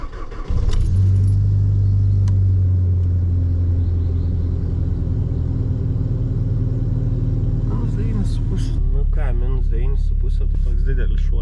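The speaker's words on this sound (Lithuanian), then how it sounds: "Pasikuriam mašiną." A car engine cranks and catches on a freezing snowy morning at about minus nine degrees, then settles into a steady loud idle rumble before revving and cutting off, with a person talking nearby.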